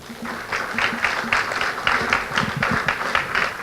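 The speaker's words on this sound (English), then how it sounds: "a round of applause" Audience applause at a guest speaker event, steady dense clapping throughout, filling the room at moderate loudness with no voices over it.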